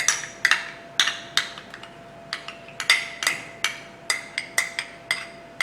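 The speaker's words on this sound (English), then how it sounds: "the next step is simply to mix the Parmesan cheese" A spoon clinks steadily against a bowl while Parmesan cheese and mayonnaise are mixed for a broiled grouper topping: a run of light, evenly spaced taps, close and clear, with no talking.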